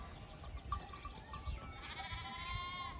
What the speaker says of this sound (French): Vous voyez, il y a plein de petits agneaux.